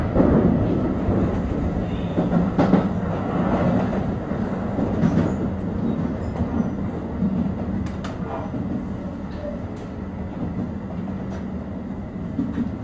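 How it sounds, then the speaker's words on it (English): Keio Line rapid train running between Tsutsujigaoka and Chofu, a continuous close interior rumble with rail clatter and occasional clicks from the wheels, steady throughout with no voices. "This is a rapid train bound for 橋本."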